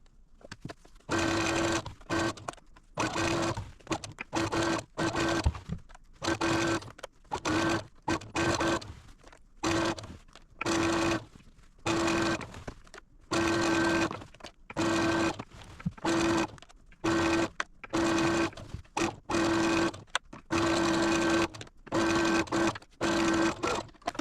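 A sewing machine stitching a quilt border, running in many short, rhythmic bursts with brief pauses between them over about twenty-four seconds, close and clear with no talking.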